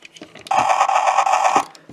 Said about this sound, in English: it's a somewhat kind of helicopter sound, like the blades are rotating and spinning around as the helicopter is flying